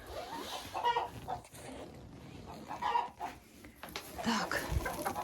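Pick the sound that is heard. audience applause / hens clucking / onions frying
hens clucking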